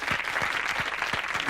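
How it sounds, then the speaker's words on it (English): Studio audience at a music quiz show applauding, a short burst of dense steady clapping with faint rhythmic thumps underneath, no talk. "Fantastic, round of applause."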